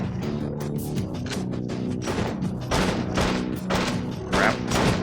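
Shotgun blasts in the first-person shooter You Are Empty, set in a Russian metro, several booming shots spaced irregularly over a dense, noisy game background, with occasional speech-like sounds mixed in.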